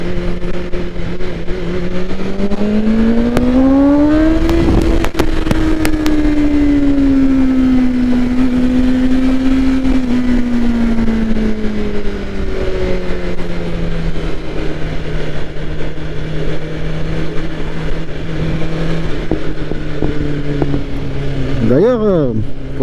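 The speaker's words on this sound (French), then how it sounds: "Ce bruit de boîte à air là, c'est impressionnant." The airbox intake of a BMW M1000R or S1000RR motorcycle roars loud and close, the engine note climbing, holding and slowly falling across the ride, with a short sharp rev at the end and a voice heard over it.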